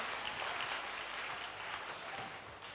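Sustained applause from a church congregation giving thanks, a dense, steady wash of many hands clapping that fills the whole stretch and eases slightly toward the end.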